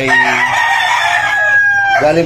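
A bull stag gamefowl rooster crows once, a loud, close, drawn-out call that falls away at the end.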